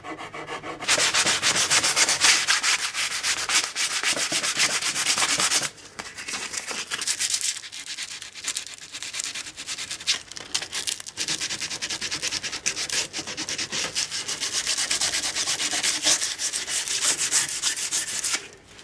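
Yew English longbow being sanded by hand with 80-grit sandpaper, producing steady close-up rasping strokes in two long bursts separated by a brief pause, with no talking.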